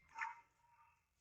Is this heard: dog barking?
yes